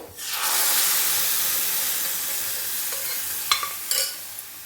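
Moong dal poured into a hot tempering with asafoetida crackles into a loud, steady sizzle that settles to a broad hiss, with a few sharp clinks and scrapes of a spoon near the end.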